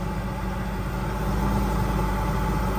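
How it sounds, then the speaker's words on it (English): A motorhome engine runs at idle, with a steady, even rumble holding constant throughout and no talking over it. "Okay, so I have the engine running."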